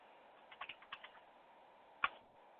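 Light, rapid taps on a small keyboard as a contact name is entered on a MobileLink device, a short flurry of soft clicks, a pause, then one sharper tap, faint and close.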